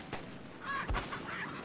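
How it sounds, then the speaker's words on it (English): Chickens clucking and squawking in short bursts in Resident Evil 4, a couple of louder calls standing out over a steady background hum. "Shut up, chickens, turkeys, whatever you are."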